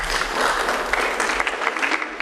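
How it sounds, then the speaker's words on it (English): An audience at a school awards ceremony claps for students, a dense steady burst of applause from a crowd that lasts a couple of seconds. "Let's give another round of applause to these students"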